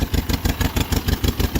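A John Deere MV tractor engine with its carburetor still out of adjustment runs at a steady idle, chugging in a loud, even rhythm of close firing pulses with no voices.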